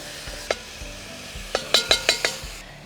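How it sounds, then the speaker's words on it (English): Roebuck venison browning in a pan for chili con carne, with a steady low sizzle under a run of sharp utensil scrapes and clinks against the pan, about half a dozen close knocks bunched toward the end. "Now we just brown all the meat"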